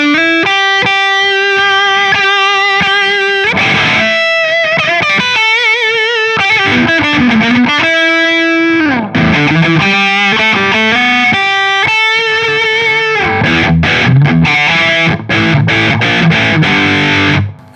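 Electric guitar played through the lead effect of a Zoom 505II multi-effects pedal, sustained distorted notes and bends, then fast choppy phrases, loud and close with no talking.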